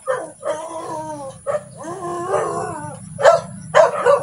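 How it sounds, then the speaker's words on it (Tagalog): A stray dog barks, yips and whimpers in short bursts close by, with a few high, strained cries near the end, in an abandoned banana grove. "May ligaw na aso pa"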